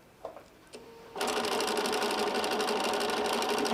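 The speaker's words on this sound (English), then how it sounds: "So I'm just going to sew to that first seam so that I know that those are together" A sewing machine stitching a quilt seam runs steadily and loud after a few small handling clicks, its motor whirring continuously and close up to the end.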